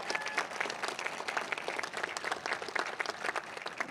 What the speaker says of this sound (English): Let's give all of them one more big round of applause